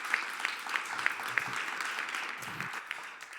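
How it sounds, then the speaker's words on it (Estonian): Audience applause at an integration awards ceremony, a dense burst of clapping from a crowd heard at moderate distance, steady throughout the few seconds with sharper individual claps standing out near the start. "Küll aga ma tahan 2 suurt aplausi koos teiega teha."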